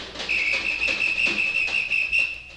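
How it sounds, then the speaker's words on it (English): A shrill, steady whistle blown in several long, slightly pulsing blasts, loud and close, with faint background noise. "pretty soon they seen a big policeman, and he blew his whistle at 'em"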